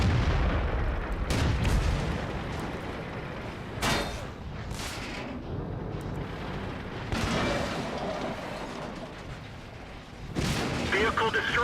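Tank cannon fire in World of Tanks, several heavy booms spaced irregularly across the battle, some close and loud, with rumbling battlefield noise between shots.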